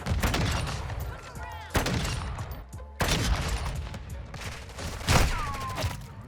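Gunfire in Modern Warfare 2, dense bursts of rapid automatic shots and impacts in a chaotic multiplayer firefight, loud and nearly continuous with a few sharper cracks and brief pauses between volleys.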